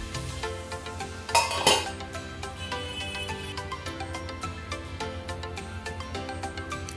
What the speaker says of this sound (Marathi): आता आपण झाकण खोलून घेऊया